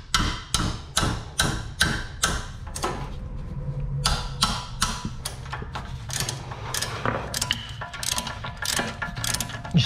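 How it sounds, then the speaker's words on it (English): Hammer blows strike a ratchet fitted with a 17mm socket to break a bolt loose, a series of sharp, close metallic clanks in quick bursts, some evenly spaced and others irregular, with ratcheting clicks in between. "we'll break it loose with a hammer"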